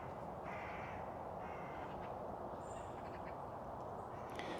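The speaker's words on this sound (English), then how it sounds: "the crows are really noisy now" Crows caw in short, faint bursts from some distance on a wet English countryside walk, over a steady wash of outdoor background noise.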